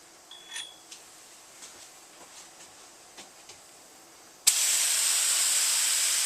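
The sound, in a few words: spray coating Duracoat onto an AR lower receiver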